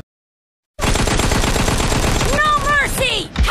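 After a moment of silence, rapid automatic gunfire from a shooting video game erupts in a loud, continuous burst, with a brief game voice cutting in near the end.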